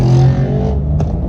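A Porsche's engine roars loud and close through its exhaust, a throaty rev that holds, dips and then eases back, with a brief sharp burble near the end.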